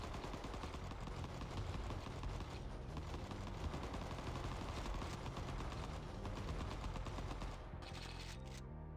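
Missile Circus special attack in a video game fired over and over, producing a dense, continuous barrage of rapid explosive shots that stays loud and steady before abruptly thinning near the end.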